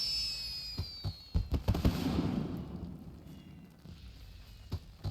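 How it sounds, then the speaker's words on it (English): Video game fireworks going off in a dense string of crackling pops and muffled booms that swell and fade, the bursts overlapping at a moderate distance. "And you got like massive amounts of fireworks over here as well."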